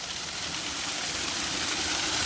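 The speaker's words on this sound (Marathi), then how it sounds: "बघा 5 HP ची मोटर आहे." A 5 HP Ecozen solar-powered water pump motor runs continuously, producing a steady, dense mechanical hum and rushing noise with no pauses.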